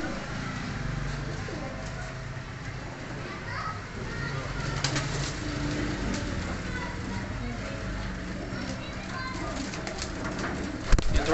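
Pigeons coo softly in an evening setting in Faisalabad, their low murmuring calls running under nearby voices and children's chatter, with a brief louder knock at the end.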